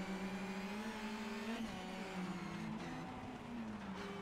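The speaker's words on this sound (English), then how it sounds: "Timo Sunninen will be the next car through." Rally car on a gravel forest stage of Rally Finland, engine note sustained and loud as it passes at speed, pitch shifting slightly through the pass, no talk.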